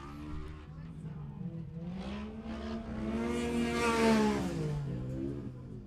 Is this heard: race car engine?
yes